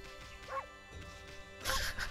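Wolf in the video game Okami gives a couple of short, bright yipping barks, the first near the middle and a louder burst toward the end, over faint in-game background music.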